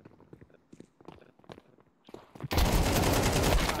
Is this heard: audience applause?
no